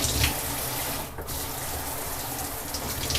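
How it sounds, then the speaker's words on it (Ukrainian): Hotel shower in a Carpathian resort in Yaremche, hot water running in a steady, close hiss of spray with a brief dip partway through. "А це в нас, до речі, одразу пішла гаряча водичка."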